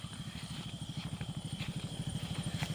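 A motorcycle at a camping spot runs at a steady idle, its engine putting out a rapid, regular low throb with a faint high whine, close by and continuous.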